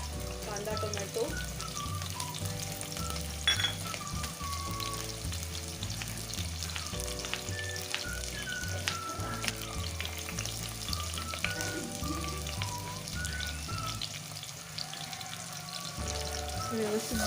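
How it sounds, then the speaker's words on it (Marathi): Onions sizzle and fry in a pan in a home kitchen, a steady crackling hiss with occasional stirring scrapes, close and continuous; a voice can be heard faintly at times. "व्यवस्थित भाजून घ्यायचा कांदा."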